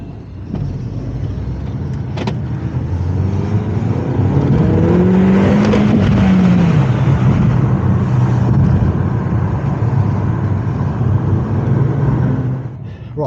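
A 2011 Mini with running issues revs and accelerates on a road test after a fuel-leak safety check, its engine note rising and falling loudly and steadily throughout, heard from inside the car with faint speech now and then.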